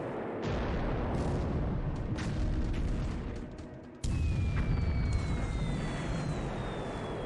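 Heavy, continuous rumbling blasts from a 1,000-pound bomb striking the cruiser Yubari in a War in the Pacific game, loud and sustained with a sharp fresh burst midway and whistling tones trailing after.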